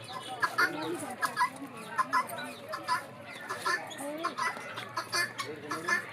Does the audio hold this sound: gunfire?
no